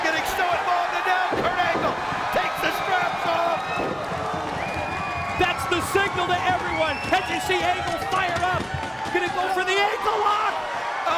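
A wrestling crowd yells and chants in an arena during a TNA match involving Samoa Joe, a rhythmic mass of voices with cheers and thumps from the ring beneath commentators talking.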